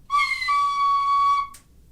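A penny whistle plays a single sustained bright note that shifts pitch slightly near the start and ends abruptly with a short breathy puff, alone and clear.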